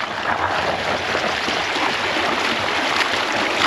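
Continuous splashing and rushing water as a bike rides through a shallow stream at Great Sand Dunes, loud and close throughout.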